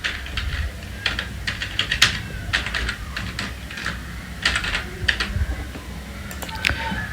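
Quick bursts of keystrokes on a computer keyboard tap out a UPI ID for a payment, crisp close clicks in irregular clusters with short pauses over a low background hum.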